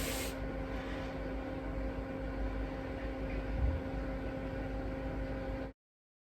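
A crop spraying machine buzzes steadily outdoors, a continuous close mechanical drone with a constant hum and hiss that holds level for about six seconds before cutting off abruptly.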